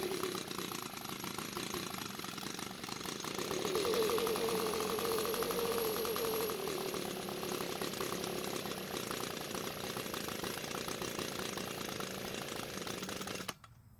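A small two-stroke engine on an Echo leaf blower that starts but won't stay running runs steadily throughout, a continuous buzzing drone that rises slightly in pitch for a moment before cutting off at the end.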